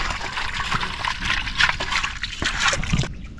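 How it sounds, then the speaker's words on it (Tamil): Water poured over live snails to rinse them before cooking, a close trickling and sloshing splash running steadily with small splatters. "திரும்ப தண்ணி ஊற்றி ஆத்துறோம்."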